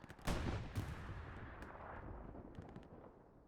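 Artillery fire in a tank battle video game sounds as a couple of heavy booming blasts early on, followed by rumbling distant shots and some crackling gunfire that trail off toward the end, with no speech.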